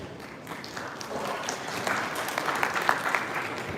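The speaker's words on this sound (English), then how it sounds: "Ladies and gentlemen, a huge round of applause for this wonderful panel" Audience applause at the close of a vegetable oil price outlook panel, a steady wash of many hands clapping that builds slightly toward the end, fairly distant and even.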